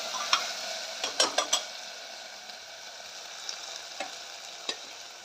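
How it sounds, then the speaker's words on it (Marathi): Potatoes sautéing in a pan on the stove, a steady close sizzle and frying hiss with a few sharp clinks and scrapes of a utensil stirring them. "आता बटाटे थोडे परतू दिले."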